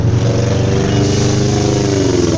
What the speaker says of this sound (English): Loud ass bullshit. Yo, hillbilly ass truck.